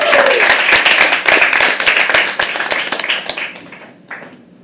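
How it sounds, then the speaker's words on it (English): An audience at a live poetry open mic claps loudly and keeps going as a performer walks to the stage, sharp individual claps standing out before the applause thins and trails off. "Keep clapping till you come on stage"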